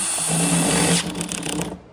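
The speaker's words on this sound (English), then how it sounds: "No, I'm stopping the drill." Power drill boring 3/8-inch holes into the body of a Foxbody car, a steady whining motor buzz that runs loud and close for about a second, then drops and rattles unevenly as the bit slows and stalls.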